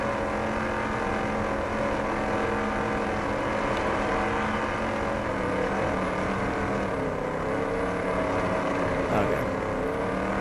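Race car engine in the Dirt Track Racing 2 video game, a steady loud droning whine held throughout with slight pitch shifts, no talk over it.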